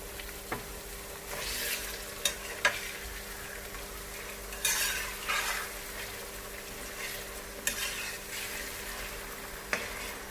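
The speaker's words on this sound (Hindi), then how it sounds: "अब चिकन को भी मजीद भूनेंगे। जब तक इसका कलर चेंज हो जाता है तब तक भूनेंगे चिकन को।" Chicken sizzles steadily in a pan with palak (spinach) while being stirred, with scattered scraping and clinking spoon strokes over the constant close-up frying hiss.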